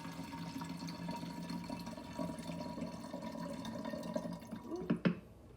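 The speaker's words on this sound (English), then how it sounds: "oops, I'm totally spilling it. This would definitely be better if I did this over my sink." Water is poured from a container and spills during a recycling demonstration, a quiet continuous trickle with faint splashes and drips building to a couple of sharper splashes near the end.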